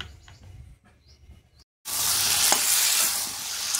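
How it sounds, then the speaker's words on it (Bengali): Spices sizzle and fry loudly in hot oil in a wok, a steady close hiss after a quieter opening with faint clatter and a brief silence. "এদিকে এখন কষানো হচ্ছে।"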